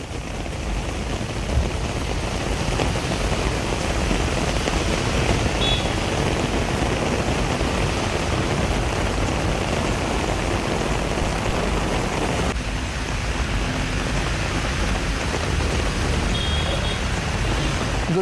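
Heavy monsoon rain pours down on a street in Delhi as a dense, steady, loud hiss that holds without pause throughout.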